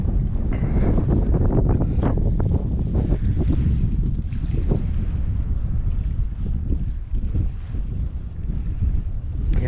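Strong wind buffets the microphone on a hike in the high desert of Washington, a loud, continuous low rumble with gusty surges and no speech.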